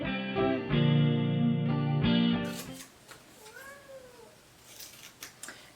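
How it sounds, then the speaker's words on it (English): A cat meows a couple of times, faint and distant against a noisy background, after a loud sustained tonal sound ends. "If you can hear my cat outside"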